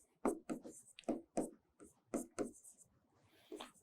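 A pen writes by hand on paper while drafting an exam-style answer. The strokes come in short, crisp bursts, close and fairly loud, in an uneven rhythm of about a dozen quick scrawls.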